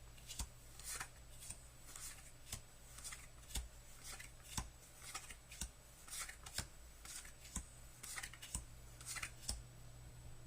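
Well-worn Dutch Blitz playing cards dealt one by one into a face-down pile of ten, giving soft, close, evenly spaced flicks and taps in a quiet room with no talking.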